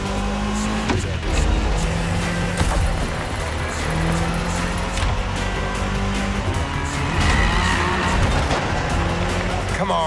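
A car in the racing game The Crew Motorfest drives hard with a loud continuous engine roar and long tire squeals and skids, with game music and effects layered under it.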